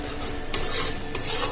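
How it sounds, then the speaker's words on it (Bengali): Turmeric, chili powder and Kashmiri chili powder fry in a pan for malai matar paneer while being stirred. A loud, continuous sizzle runs under brisk scraping strokes of the spoon, heard up close. "এবারে এটা একটু হালকা করে ভেজে নেব।"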